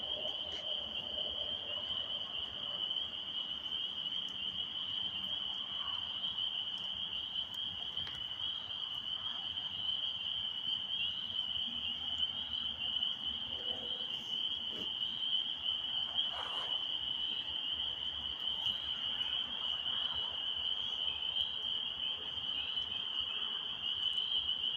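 Steady high chorus of night insects and frogs fills dark woods during hunting season, constant and moderately distant, with faint scattered rustles and no talking.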